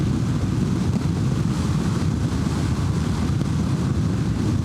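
Steady, roaring wind buffets a motorcycle rider in a storm near the Arctic Circle, a constant crosswind from the left with no gusts, dense and loud throughout.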